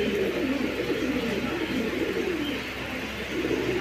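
Pigeons kept for sale, including a breeding pair, give low, throaty cooing in repeated rolling phrases, close and continuous over a steady background murmur.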